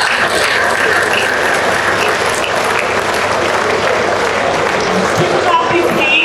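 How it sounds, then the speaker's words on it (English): At a fellowship conferment ceremony, a large audience claps steadily and loudly as departing leaders leave, the dense applause continuous throughout with voices faintly mixed in. "Let us clap as they are taking their leave"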